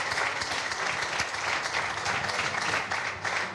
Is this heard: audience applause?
yes